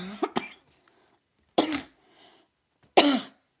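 A person with a lingering cough hacks in three separate bursts, a quick double cough followed by two single harsh coughs spaced about a second and a half apart, close and loud with quiet between.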